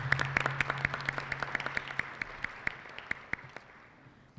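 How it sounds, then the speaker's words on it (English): Applause for sponsors at a Massachusetts STEM summit comes through as a string of crisp, evenly spaced claps that gradually thin out and fade, with a low steady hum in the room underneath. "Please join me in a round of applause for all of these committed organizations."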